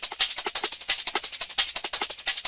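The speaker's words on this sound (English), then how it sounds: "So a typical drum and bass hi-hat would probably sound something like this." Fast, steady drum and bass hi-hat pattern with crisp, bright ticks in a tight, busy rhythm, played alone at an even level without any talk.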